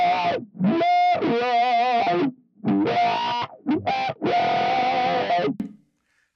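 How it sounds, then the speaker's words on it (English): An electric guitar runs through a Paragon wah pedal, played in distorted bursts and chords whose tone sweeps and warbles, with short gaps between phrases and a quiet tail at the end. "I put a Paragon wah in here, and if you hit that wah pedal"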